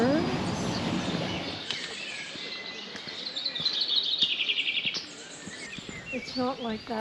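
Many birds chirp and sing in short, scattered calls beside a moored Saga 43 sailboat in a harbour in the Azores, with people talking throughout and wind and water noise underneath.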